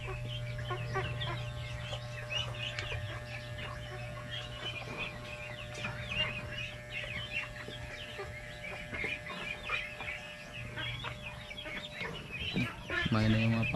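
Chickens cluck and ducks and other fowl chatter steadily in a busy farmyard, with a constant low hum running underneath.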